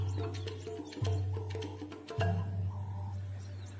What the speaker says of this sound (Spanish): oír el rugido de un león en medio de la noche era algo aterrador